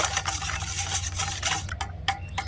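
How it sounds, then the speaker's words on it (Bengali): Bread batter of egg and milk powder mixed in a bowl, quick wet whisking and scraping strokes, close up, with a few sharp taps of the utensil against the bowl and no talk. "এবার সমস্ত কিছু ভালো করে মিশিয়ে নেব"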